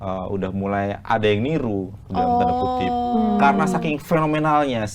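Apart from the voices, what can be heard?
No distinct noise like a dog, phone or traffic.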